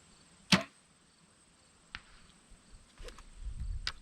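Arrow from a compound bow hits a shot-out target bag outdoors, giving one sharp, fairly loud thwack followed by faint thumps and rustling.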